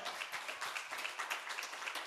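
Scattered hand clapping from a church congregation at Sardis Church, a soft, uneven patter of claps spread across the room at moderate distance, steady throughout with no voices standing out.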